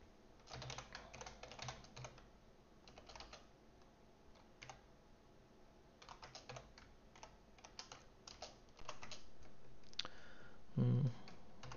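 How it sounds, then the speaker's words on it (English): Someone types on a computer keyboard, with irregular bursts of key clicks separated by short pauses and a louder thump near the end, heard alone without talk. "All right, a lot of typing."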